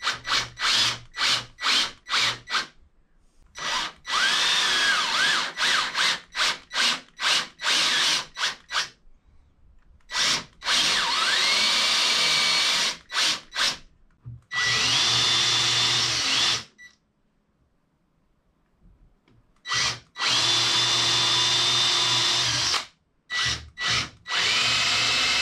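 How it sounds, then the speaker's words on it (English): Power drill boring holes through wooden boards for a clamp and jointer jig, loud repeated bursts of whirring with short trigger blips and silent gaps between holes, heard alone without talk. "drill the rest of the hole going all the way through"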